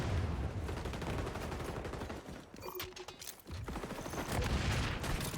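SMG gunfire in a video game capture-zone match, dense continuous rapid bursts of shots that briefly pause midway before resuming loud and sustained.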